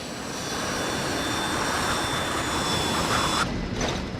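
Steady, loud roar of jet engines from inside an aircraft in flight, running on only two engines after an engine fire, a dense continuous rumble with a faint high whine throughout and no voices.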